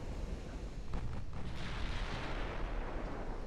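Warship guns firing during a naval battle in Ultimate Admiral Dreadnoughts, a sustained rumbling barrage of booming shots and blasts, moderately loud and steady with a brief swell partway through.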